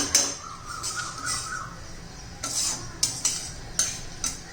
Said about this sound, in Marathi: खमंग असा आपल्याला रवा भाजून घ्यायचा आहे